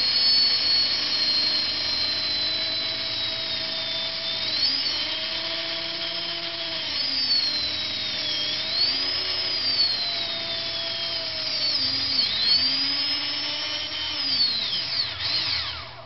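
An Esky Big Lama RC helicopter's brushless motor spins on a test bench, giving a steady, close, high electric whine whose pitch repeatedly sweeps up and down as the throttle changes, with no talking.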